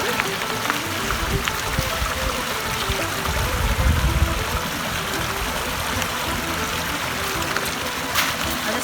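Water trickles steadily through an Aqua Pura Traveller filter bottle outdoors on a Scottish hiking trail, a continuous close hiss of flowing water with wind-like noise throughout.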